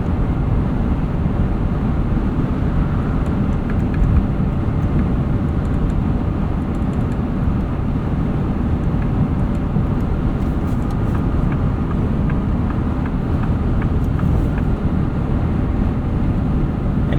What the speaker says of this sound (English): And even at 75, 80 miles an hour, it's super quiet here on the highway.